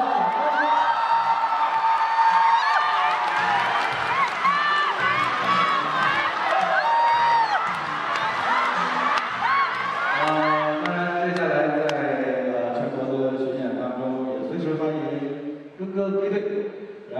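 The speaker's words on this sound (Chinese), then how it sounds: "希望大家掌声。" A theatre audience at a Guangzhou curtain call breaks into loud, sustained cheering, whoops and shouting, with applause building and continuing to the end.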